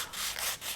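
Sandpaper rubs on a thin wooden part of a HM Sherbourne ship model kit, three short, close, dry strokes in a quick back-and-forth rhythm, alone without talk.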